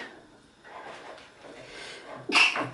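A single sneeze bursts out near the end, close and loud, after a stretch of faint rustling room noise.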